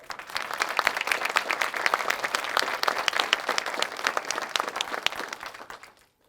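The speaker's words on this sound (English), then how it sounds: "please give a warm applause to Liz Hammonds for that national anthem" An audience at a Quilts of Valor presentation ceremony applauds after the national anthem, dense energetic clapping from a sizable crowd lasting about six seconds before stopping abruptly.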